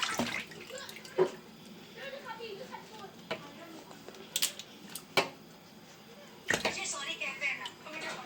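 Bitter gourds washed by hand under water in a home kitchen: faint splashes, trickles and drips come and go in short bursts, with a voice speaking at times.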